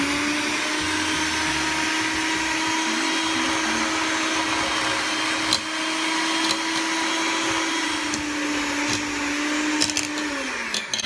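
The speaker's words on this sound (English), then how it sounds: "And now I'm going to use the electric mixer." An electric mixer runs on low speed through cookie dough batter, a steady close motor whine with a constant hum, with a few faint knocks of the beaters against the bowl before it winds down near the end.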